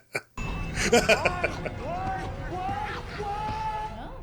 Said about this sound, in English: They really can't hear all this yelling?